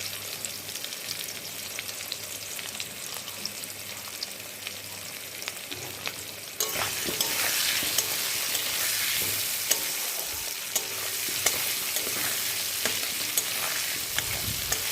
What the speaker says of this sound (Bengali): আলুর মধ্যে একটু নুন আর একটু হলুদ দিয়ে ভালোভাবে ভেজে নেব।